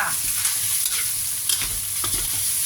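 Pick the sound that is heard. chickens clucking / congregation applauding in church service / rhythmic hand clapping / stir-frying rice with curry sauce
stir-frying rice with curry sauce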